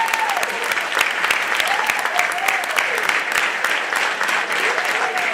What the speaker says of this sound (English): And with that rousing round of applause